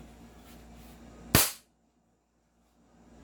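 One sharp, close shot from a KP19 gas airsoft pistol fired through a chronograph, a single crisp crack that cuts off quickly and leaves near silence.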